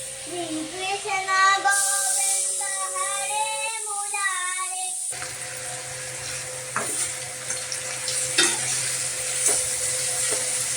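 Food fries in a pan with a steady close sizzle and occasional stirring clatter, while a voice talks over the opening seconds before the frying carries on alone.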